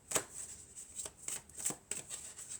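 Oracle cards shuffled by hand, a series of crisp riffling swishes repeating roughly every half second, close and fairly soft, with no voice.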